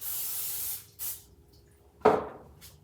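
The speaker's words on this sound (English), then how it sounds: "then you spray the mold because you want the wood to come out of there" Short hissing bursts of aerosol mold release sprayed onto a mold, followed by a louder spray with a clatter, in an otherwise quiet room.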